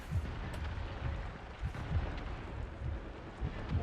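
Mortar fire from a naval battle in the pirate ship game Skull and Bones: a series of deep, rumbling booms at irregular intervals over a continuous low roar, with no talking.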